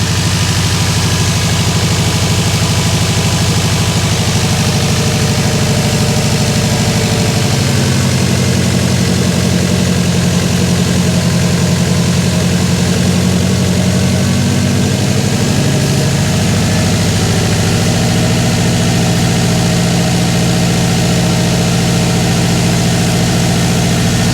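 A freshly rebuilt Subaru WRX engine idles steadily and loudly up close at its first start, a low continuous rumble with a slightly uneven, pulsing beat and no talking.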